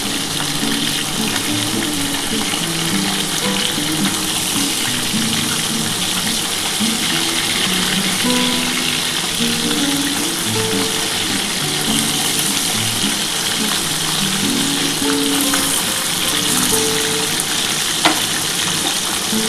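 Tilapia fish frying in hot oil, giving off a loud, continuous sizzle and crackle that stays steady and close throughout, with a faint clink near the end.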